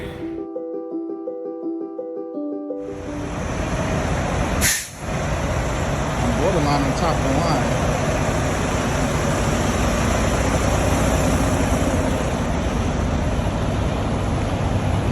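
A flatbed semi truck backs into a parking spot at night in the rain. A steady loud engine rumble and wash of rain follow a short tonal intro, with a brief hiss partway through, while someone talks.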